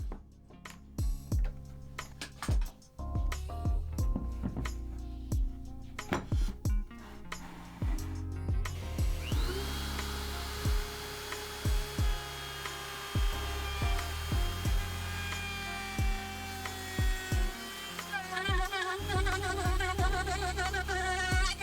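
A router cuts a neck pocket into a wooden guitar body, starting with choppy bursts of cutting and then settling into a loud, steady high-pitched whine that continues through to the end.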